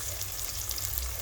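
Onions and garlic sizzle steadily in a hot pan as they are stirred and fried toward golden brown, a close, even crackle with no talking.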